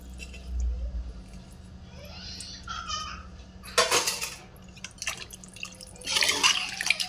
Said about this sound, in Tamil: இதில் வந்து 2 சொம்பு தண்ணி சேர்த்துக்கலாம்.